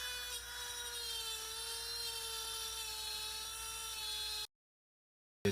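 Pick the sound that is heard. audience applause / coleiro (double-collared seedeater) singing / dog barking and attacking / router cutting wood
router cutting wood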